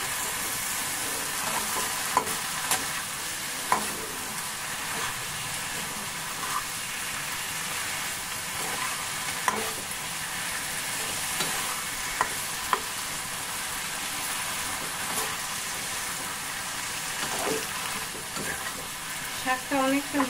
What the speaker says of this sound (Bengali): শাকটা অনেকটা মজে গেল, আর আমি ভালো করে ভেজে রেখেছি যাতে হয়ে যায়।